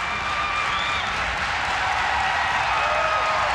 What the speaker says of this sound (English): The crowd is into the game.